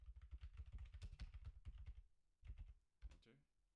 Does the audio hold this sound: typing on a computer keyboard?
yes